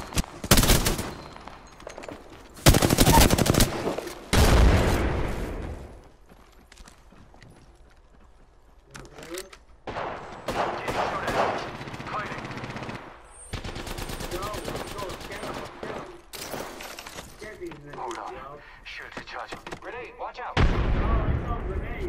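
Rapid bursts of gunfire from the battle royale video game Apex Legends, loud and close, arriving in several separated volleys with quieter stretches between them.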